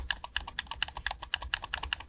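Rapid, evenly paced clicking of keys or buttons during gameplay, about a dozen sharp close-up clicks in two seconds with no voices.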